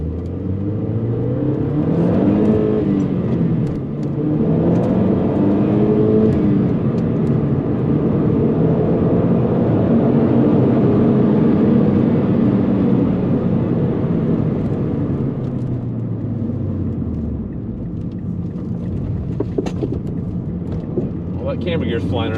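A 2009 MazdaSpeed3 hatchback accelerates hard on the road. The engine drones close and loud, its pitch climbing through several gears and then dropping as it eases off.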